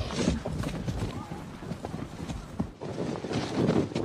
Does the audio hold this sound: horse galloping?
yes